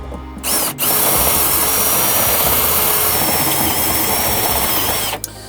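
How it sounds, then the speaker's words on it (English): A power drill fitted with a step bit whines steadily for several seconds as it cuts a hole through metal on a project car, starting and stopping abruptly, loud and close. "So I got a step bit on a drill"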